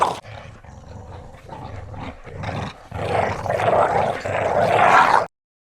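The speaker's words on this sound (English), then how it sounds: "there's several different takes of dogs performing growls" Several takes of dog growls from a sound effects library play back to back, rough and rumbling, starting moderate and building louder and denser toward the end before cutting off abruptly.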